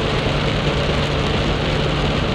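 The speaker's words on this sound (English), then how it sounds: "It's raining, so I can't really record much" Steady rain falling outdoors near a Honda Accord, a dense, even wash of noise with a low engine-like hum underneath, constant and fairly loud throughout with no talking.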